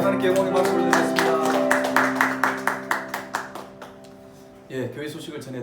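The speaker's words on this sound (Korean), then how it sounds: "우리 하나님께 영광의 박수를 드리겠습니다" A church congregation at a Sunday worship service claps in a steady rhythm over sustained music, the claps gradually growing softer and sparser before a voice begins speaking.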